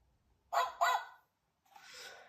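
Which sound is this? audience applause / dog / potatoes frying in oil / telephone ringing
dog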